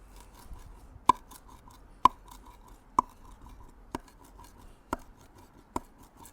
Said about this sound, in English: we need to chop this mint very finely